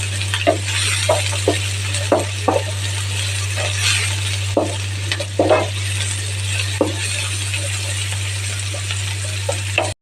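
Cumin and spices frying in oil in a pan over medium flame, with ginger garlic paste added. A steady sizzle sits under repeated clinks and scrapes of a stirring spoon against the pan, over a constant low hum.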